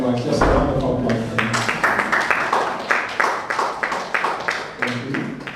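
An audience applauds a speaker at an event on African entrepreneurship, a dense rolling wash of hand claps running steadily throughout with several sharper claps standing out.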